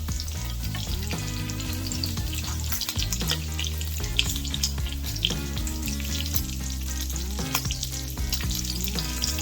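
Bacon frying in a pan while making a bacon western pie, a dense, constant crackling sizzle with intermittent stirring scrapes, close and moderately loud, with no voices.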